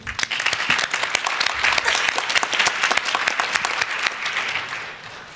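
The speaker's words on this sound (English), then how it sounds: "Round of applause for Team 2." Audience at a closing session of a medical research symposium applauds a presenting team, dense steady clapping filling the room for about five seconds before easing slightly at the end.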